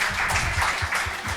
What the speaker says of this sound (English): Can we welcome them with a huge round of applause?